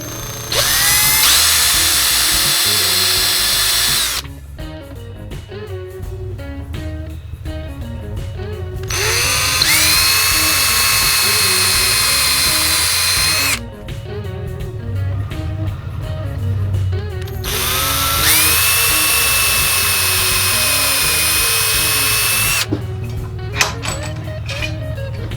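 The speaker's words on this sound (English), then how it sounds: "Now my drill bit in the drill. And we'll drill 4 holes to start with." A power drill bores holes in a wire-wrapped sword handle, in three loud, sustained whining bursts separated by quieter pauses with light handling noise.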